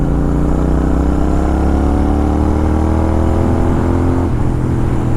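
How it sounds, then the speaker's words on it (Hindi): A 650 motorcycle's aftermarket exhaust drones loudly at high revs above 3500 RPM, holding a steady rising pitch before dropping off near the end, with no talking. "देखो ये गई 3500 RPM से ऊपर आवाज़ देता है ये एग्जॉस्ट।"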